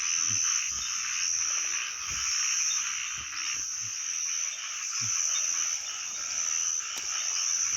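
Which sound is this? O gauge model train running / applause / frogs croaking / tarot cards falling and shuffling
frogs croaking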